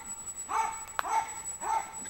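Dogs at a kennel give three short, high yelps or whimpers at a slightly distant, moderate volume over quiet background noise.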